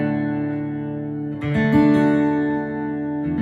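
A guitar chord rings out, then a second chord is strummed and sustains, clean and close with no talking.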